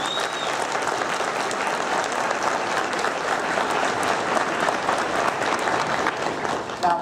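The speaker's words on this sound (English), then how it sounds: "You can clap your hands." Wedding guests clap together right after the couple is pronounced husband and wife, a dense, steady round of applause filling the room at moderate loudness for the whole stretch.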